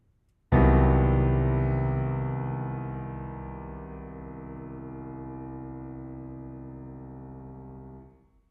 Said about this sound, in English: Here's just piano with the sound of the chord and all the options, starting with just a plain chord,